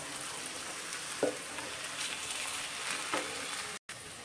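Boiled chana dal is tipped into spiced potatoes cooking in a pan and mixed in, giving a steady soft sizzle with two brief scraping stirs, close by and moderately quiet.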